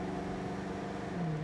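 A 1967 Mercury Cougar accelerates in second gear toward 60 mph, its engine note a steady, loud in-cabin drone that holds and rises slightly near the end.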